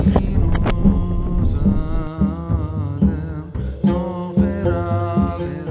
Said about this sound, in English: We're on a sand dune, and it's really windy.